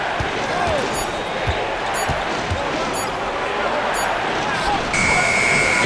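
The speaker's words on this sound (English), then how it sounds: "And the last shot before the buzzer is off." End-of-quarter buzzer in NBA 2K25, a sustained electronic tone near the end, following squeaking sneakers and bouncing ball amid arena crowd noise and commentary.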